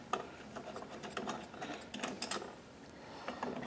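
Nuts tightened onto studs while mounting a ceramic heat emitter in a brooder: rapid, close ratchet clicking comes in uneven bursts with brief pauses and no speech.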